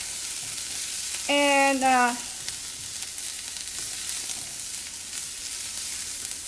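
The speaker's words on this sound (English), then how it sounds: "I am sauteing some onions right now," Onions sauteing in a pan on the stove, a soft steady sizzle heard close up, with a brief voice cutting in partway through.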